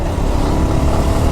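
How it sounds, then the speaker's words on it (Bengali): Loud, close engine drone of a motorbike labouring along the coastal Marine Drive road in Cox's Bazar, a continuous strained rumble with wind noise and no pauses. "আজকে বাইকটা একটু টানতে কষ্ট হচ্ছে"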